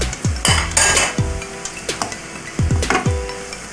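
Chopped onion, bell peppers and bacon frying in a pan, with a soft sizzle under repeated metal utensil scrapes and clanks as the vegetables are stirred, close and clear, with no talking.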